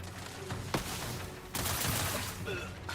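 Gunfire bursts in a video game, loud weapon volleys rising over a dense backdrop of game sound effects, with a burst near the start and a heavier sustained barrage midway.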